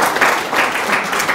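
A seated crowd at a gathering claps together in thanks, a steady, dense wash of applause that stays loud and even throughout the short moment.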